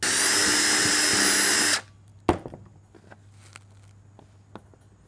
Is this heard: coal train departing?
no